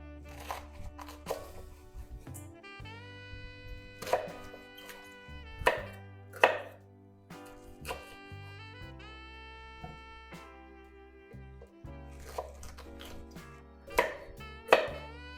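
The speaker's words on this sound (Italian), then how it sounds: "li andiamo a tagliare in pezzi abbastanza piccoli" Sharp knife strikes on a cutting board as artichokes are chopped into small pieces, coming in short irregular bursts over steady background music.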